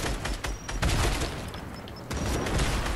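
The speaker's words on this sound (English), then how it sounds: "It's a gun!" Rapid gunfire fills the moment with dense, continuous volleys of cracking shots, loud and close, with a brief dip in intensity before the barrage surges again.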